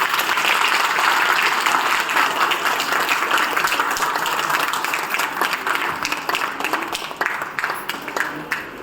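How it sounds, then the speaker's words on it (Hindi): A satsang crowd claps loudly and steadily for several seconds, a dense wash of applause that stays strong and gradually thins toward the end, with no talk over it. "जोरदार ताली बजाओ।"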